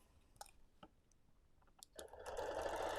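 A long-arm quilting machine stitches fabric: scattered faint clicks and taps first, then the motor rises into a loud, steady mechanical whir near the end.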